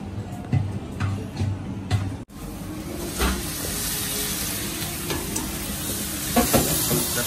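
Dry duck massaman curry sizzling and hissing in a hot wok, stirred with scraping clatters, a continuous close frying sound with occasional spatula knocks.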